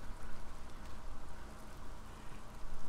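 Steady rain from the video game Days Gone hisses and patters continuously, a dense wash of falling drops with no voices.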